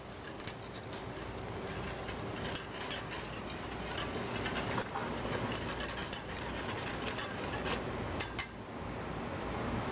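A spoon stirring hot chocolate in a pot as it nears the boil, with faint continuous scraping and light clinks, soft and steady throughout.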